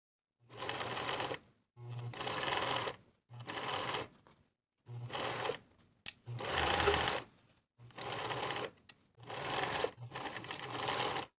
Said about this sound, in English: Now we can sew that main and lining armhole fabric from the bottom of the armhole to the bottom of the armhole on the opposite side